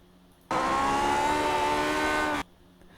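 A Lotus 49 race car engine at Sonoma in iRacing's Grand Prix Legends mod screams at high revs in one loud, sustained two-second burst with a steady pitch, then cuts off abruptly, with silence on either side.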